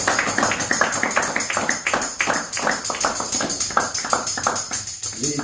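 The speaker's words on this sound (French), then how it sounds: "Applaudissez très fort." A church congregation in Douala, Cameroon claps loudly in a quick, rhythmic beat at a worship meeting, with voices calling out over the steady run of claps.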